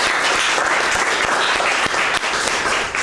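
Studio audience applause welcoming a talk-show guest, a dense burst of clapping from many hands, loud and steady for a few seconds before tapering slightly at the end.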